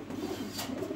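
Pigeons coo softly in a loft in Rajshahi, a low rolling burble repeating through a brief moment, fairly close with faint background.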